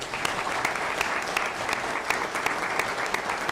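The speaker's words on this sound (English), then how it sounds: "So let's give a big round of applause." Steady round of applause from an audience at a city council meeting honoring a baseball team of Class 5A state champions, dense continuous clapping with a few sharper claps standing out, fairly near and without talk.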